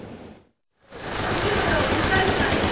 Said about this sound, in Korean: 겨울비가 내리는 가운데